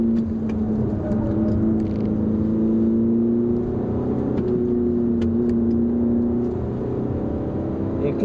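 Steady engine hum from an Audi Q3 2.0 TDI quattro, a 2011 diesel all-wheel-drive SUV, heard from inside while driving, with a sustained drone that shifts pitch slightly as gears change, continuous and moderately loud.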